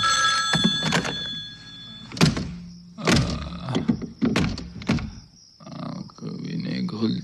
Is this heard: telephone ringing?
yes